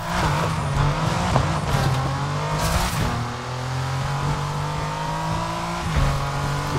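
A car engine revving hard in the racing video game NFS Unbound, rising and falling through gear changes with a sustained loud roar and brief tire squeal, close and alone without talk.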